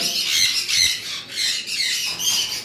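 Harsh, shrill squawks from breeding-pair cockatiels, a white-face fawn female among them, come in several loud close bursts in quick succession.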